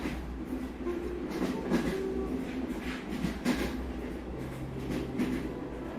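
Steady train rumble on rails in the visual novel Subahibi, a continuous low rolling drone with faint clacks of the wheels, held at an even level for the whole stretch with no talking.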